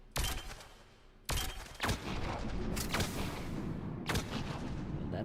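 A Shuriken submachine gun firing in Mass Effect, with several sharp bursts of rapid shots that start abruptly and ring on between them, close and loud, no talk.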